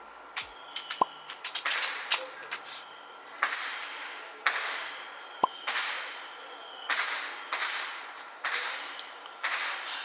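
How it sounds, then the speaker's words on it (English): Fireworks pop and crack repeatedly in the distance, a string of sharp bangs followed by fizzing bursts at irregular intervals, heard faintly in the background of a quiet room. "Do y'all hear them fireworks in the background?"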